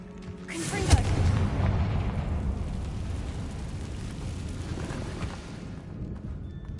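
Confringo fire spell explosion in Hogwarts Legacy, a single deep boom early on followed by a long rumbling, crackling fiery decay that fades out over several seconds.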